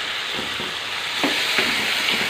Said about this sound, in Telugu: టమాటా ముక్కలు వేసుకుందాం.